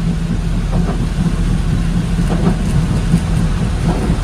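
Steady rain splashes on a wet road, a loud continuous wash with a low engine rumble beneath, near and unbroken.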